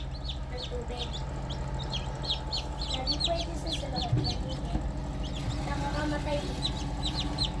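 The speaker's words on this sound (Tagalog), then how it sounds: "Babalik ko po muna itong tatlong sisiw na bagong pisa" Three newly hatched chicks, just out of the incubator, peep in rapid, high, repeated chirps that run continuously throughout, close by over a low background hum.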